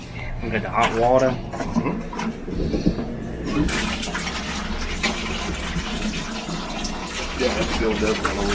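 Hot water gushes from a shower's newly tested lines, a steady rush of spray with people talking over it.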